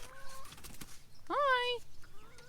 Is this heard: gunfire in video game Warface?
no